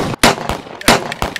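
Gunshots from a real gun in a mock war staged in a kitchen: two loud, sharp cracks about half a second apart, each trailed by quicker, softer pops, with no talk.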